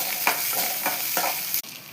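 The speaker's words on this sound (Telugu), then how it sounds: "ఫ్రై చేసుకోవాలి ఫ్రెండ్స్" A steady broadband sizzle of onions frying in a pan, with a few louder scraping stirs at regular intervals; close and continuous, no talking.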